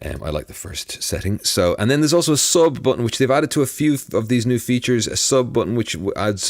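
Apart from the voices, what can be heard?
No everyday noises stand out.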